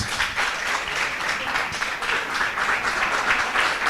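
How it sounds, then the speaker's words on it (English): A crowd applauds at a Nigerian independence anniversary gathering. Many hands clap in a steady, dense wash at fairly loud volume, continuing evenly throughout with no voices on top. "Give him a round of applause."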